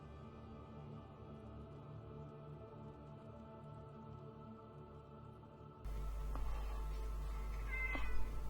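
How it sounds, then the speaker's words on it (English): A cat meows quietly in a room over a steady background hum, with a brief louder call near the end. "the other kitty has come to visit"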